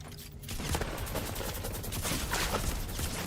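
Rapid gunfire crackles in a Fortnite Battle Royale match, dense overlapping shots in quick bursts, loud and close, with no talk over them.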